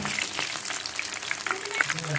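Paneer fries in a pan, giving a bright, crackling sizzle with small pops, and a voice speaks over it.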